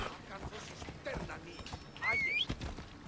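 Rhythmic hoof clip-clop of a galloping horse with a short whinny, mixed with game sound effects and faint background noise.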